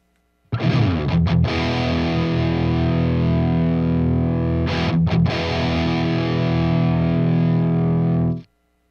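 Heavily distorted electric guitar through a Friedman JEL 50 amplifier with the gain turned up: two long sustained chords ring out loud and saturated, separated by brief choppy stabs, then stop abruptly.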